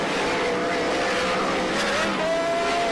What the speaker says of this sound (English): Funny sounding exhaust. Exhaust may be bent up a little bit on that number 3.